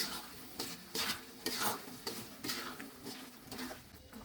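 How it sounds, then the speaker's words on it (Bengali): Olive pickle with chili powder being stirred in a pan over medium heat, a steady run of scraping strokes roughly every half second over a soft sizzle, close and moderately loud with no talking. "এটা মিডিয়াম হিটে সময় নিয়ে একটু নাড়াচাড়া করে নিব"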